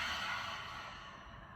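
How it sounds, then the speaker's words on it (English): A person slowly exhales air out through the mouth during a breathing exercise, a soft, breathy rush that is loud at first and fades out over about a second and a half. "Exhale, let the air out through your mouth."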